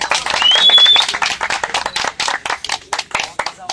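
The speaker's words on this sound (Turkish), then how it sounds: "Ses alkış" Applause from a crowd at a wrestling award ceremony at a vocational school, close and lively, with individual claps audible and a brief whistle near the start.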